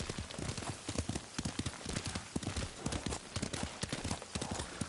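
Hooves clip-clop steadily as a horse is ridden in a samurai-era video game, a brisk rhythmic trot that carries on throughout with faint ambience and no speech.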